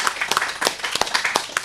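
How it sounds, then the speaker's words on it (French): An audience applauding a man named Gilles at a gathering, a dense, steady patter of many hands clapping at moderate distance, with no talk over it. "une bonne main d'applaudissements à Gilles qui est toujours ici à nous supporter et nous aider"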